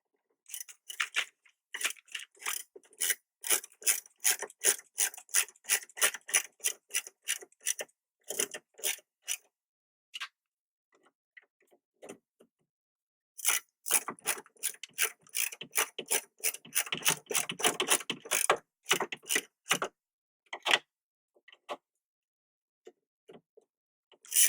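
A ratchet socket wrench tightens a mirror on a 2007 Honda Civic, rapid bursts of close, crisp clicking in several runs separated by short pauses.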